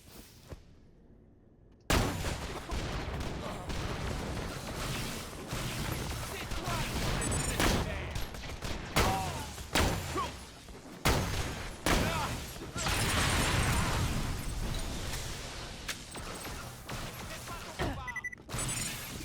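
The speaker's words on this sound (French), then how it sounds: "il marche pas mal ce sniper" Sniper rifle shots in the video game Borderlands: The Pre-Sequel, loud booming reports and impacts spread over a noisy game soundscape after a quiet opening, with faint speech in places.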